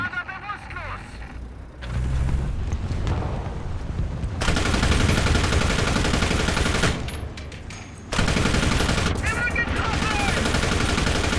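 Sd.Kfz. 251/21 halftrack autocannon in War Thunder fires in rapid, loud bursts, dense repeated shots broken by short pauses, with a voice speaking between them.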